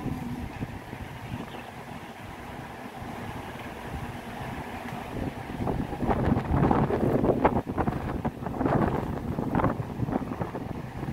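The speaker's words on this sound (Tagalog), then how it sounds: "Mahangin po ulit." Strong wind buffets the microphone at the Peak Tower lookout in gusty, rumbling bursts that grow louder and rougher partway through.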